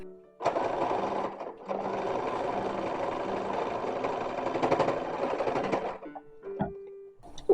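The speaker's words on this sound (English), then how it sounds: "So now I can, in full confidence, stitch the actual shoulder seam." A sewing machine stitching the shoulder seam of a copied 1920s–1930s dress: a short whirring burst, a brief pause, then a long steady run of rapid stitching that stops abruptly, followed by a few faint clicks.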